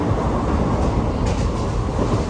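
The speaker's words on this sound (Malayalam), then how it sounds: "നമ്മൾ കയറി കഴിഞ്ഞത് ഗുരുവായൂർ കന്യാകുമാരി ട്രെയിനിലാണ്" Inside the general compartment of the Guruvayur–Kanyakumari train, a loud, steady rumble of the moving carriage fills the space, with continuous wheel and body noise and no voices.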